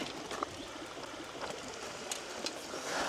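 A small, clear mountain stream flows steadily near bicycle trails by the Kamyki quarry in Głuszyca, a continuous close rushing and trickling with occasional brighter splashes and no talking.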